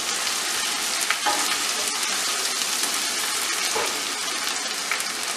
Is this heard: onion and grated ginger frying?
yes